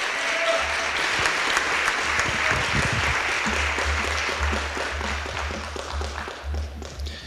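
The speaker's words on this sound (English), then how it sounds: "let's give these guys a great round of applause again for their achievements" Audience applause at a school awards ceremony, a steady, fairly distant wash of many hands clapping that carries through the whole stretch with a low hum beneath.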